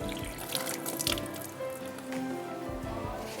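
Tap water running and dripping while hands are washed in a kitchen during cupcake baking, close splashing and dribbling that rises and falls over a few seconds, with no talk.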